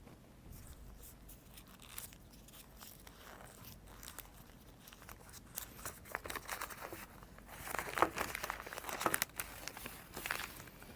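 Rustling and crinkling of oil paper wrapping around a fuel injector valve assembly, soft and close, with sharper crackles and tearing near the end.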